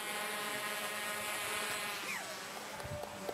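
A Skycatch drone hovers nearby with a steady, tonal whine and buzz of its rotors, holding constant with a faint pitch sweep partway through, plus some light clatter at the end.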